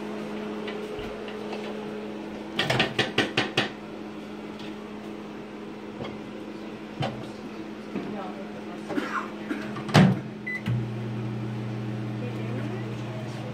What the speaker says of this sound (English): She's going to stick them in the microwave for 3 minutes.